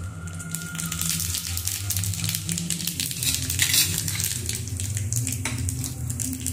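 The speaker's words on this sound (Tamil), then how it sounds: "கடாயில் எண்ணெய் ஊற்றிருக்கேன். அது சூடாகிடுச்சு. கொஞ்சம் உளுந்தம்பருப்பு, அப்புறமா கடுகு," Urad dal and mustard seeds frying in hot oil in a kadai, a continuous close crackling sizzle with small pops, steady and moderately loud throughout.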